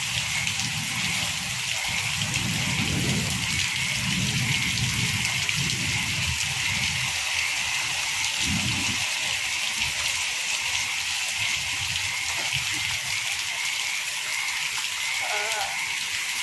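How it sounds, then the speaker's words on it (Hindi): Heavy rain pours steadily over flooded farm fields, a continuous broadband wash of water on surfaces near and far, with faint low voice-like murmurs underneath. "लेकिन यहाँ तो कल से आए हैं तभी से ही बारिश से हो रही है।"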